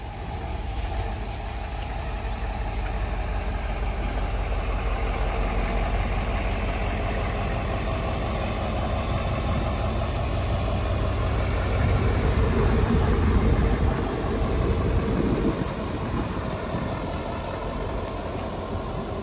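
A bus engine running steadily during a slow manoeuvre, a continuous low idling rumble with a slight swell in the middle, close and alone without talk.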